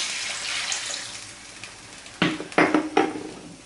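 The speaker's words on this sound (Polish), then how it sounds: "Podlewamy wodą" Water is poured into a pot over fried meat, bacon and onion, starting as a soft hiss and then turning into several sharp splashing bursts toward the end.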